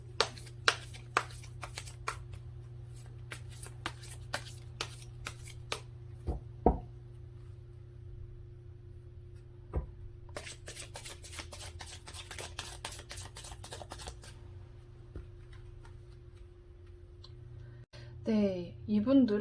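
Tarot cards are shuffled and drawn nearby with crisp, quiet snaps and riffling flurries over a low background hum, scattered across the clip with a soft bump near the end.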